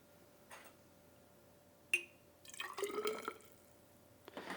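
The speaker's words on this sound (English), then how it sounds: "And that water will also go into the still." Rinse water from a graduated cylinder is poured into a lab still: a sharp glassy clink, then a short, faint splashing trickle with drips, and a soft knock at the end in a quiet room.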